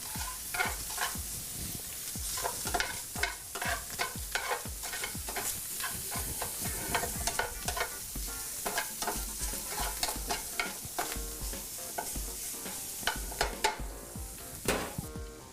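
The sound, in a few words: food being tossed and browned in a frying pan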